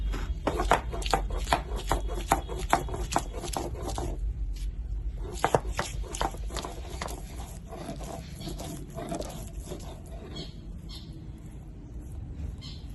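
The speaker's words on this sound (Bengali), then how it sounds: "আদাগুলো থেঁতলে নিচ্ছি, একটু বড় বড় করে কাটা হয়ে গেছে। থেঁতলে নিয়ে আর আদা রসুনটা বেটে নিই।" Ginger and garlic being crushed and pounded into paste for a chicken curry, a run of sharp, regular thuds and scraping strikes up close that thin out and soften toward the end.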